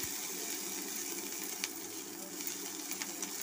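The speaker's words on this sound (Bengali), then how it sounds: "পেঁয়াজ ও রসুন কুচিটা এবার একটু ভেজে নিচ্ছি" Chopped onion and garlic frying in oil in a pan for a spicy egg pasta, a steady close sizzle running through the clip with a few faint stirring clicks.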